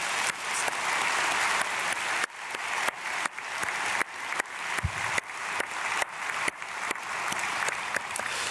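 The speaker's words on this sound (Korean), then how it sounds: "박수로 축복하겠습니다." Sustained applause from a church congregation at an early-morning prayer service, steady dense clapping that fills the whole stretch with slight surges, no voices on top.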